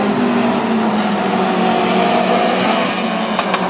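Hobby stock race cars roaring around the dirt oval at Granite City Speedway, a steady, dense engine drone from the pack with a few rising revs near the end, loud and continuous with no talk.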